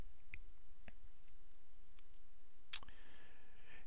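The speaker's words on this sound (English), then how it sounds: "So double click to open it." A single sharp mouse click on a Mac computer stands out in a quiet room, followed by a faint electronic tone; a few softer ticks come earlier.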